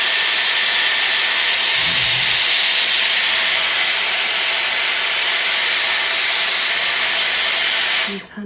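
A Dyson Airwrap runs on its cold shot setting and gives off a steady, loud, close airflow hiss with no change in level. The hiss cuts off abruptly at the end.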